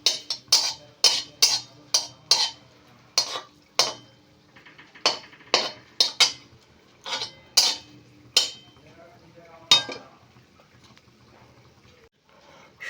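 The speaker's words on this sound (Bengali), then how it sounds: "2টো শুকনো লঙ্কা ফোড়ন দেব, দিয়ে একটু লঙ্কাটা একটু ভাজা ভাজা হওয়া অবধি নাড়ব।" A metal spatula scraping and knocking against a wok while dried red chillies fry in a spoonful of white oil, a series of sharp rhythmic clinks over a faint background sizzle.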